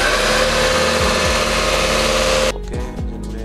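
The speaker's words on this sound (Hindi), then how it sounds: "तो रेस दें इंजन को, ज़रा इंजन का साउंड चेक करते हैं, और दें रेस।" A Proton Saga's 1332 cc engine revs loudly up close, a steady roar followed by a sudden drop and a couple of throttle blips as it settles back.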